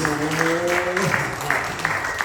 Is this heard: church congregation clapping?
yes